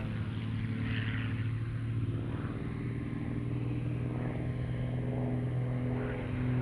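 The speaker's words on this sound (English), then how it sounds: "Flying this 1956 deHavilland DHC-1, designed originally as a trainer for the Royal Canadian Air Force" A 1956 deHavilland DHC-1 Super Chipmunk trainer flying low-level aerobatics at an air show, its propeller engine droning steadily with a shifting whine as it manoeuvres, loud and continuous throughout.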